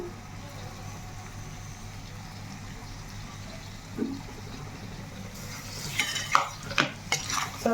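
Sliced onions added to hot oil in a pan for a Telugu-style chicken fry with red chilli paste, with soft sizzling and a few clattering stirs of a spoon against the pan toward the end.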